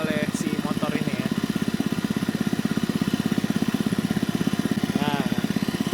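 A motor drives a piston compressor on a measurement test rig, giving a steady, fast pulsing chug that stays even throughout, with a person talking over it.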